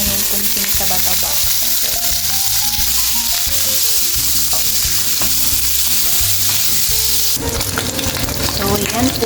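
Meat frying in a hot clay palayok for Bicol Express makes a loud, continuous sizzling hiss that runs unbroken throughout, with music playing underneath.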